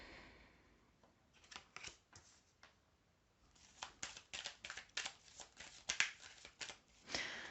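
Tarot cards being shuffled and drawn, a quiet papery riffle of soft brushing strokes that builds into a rapid, denser run of flicks and slaps near the close.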